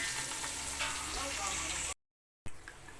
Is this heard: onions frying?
yes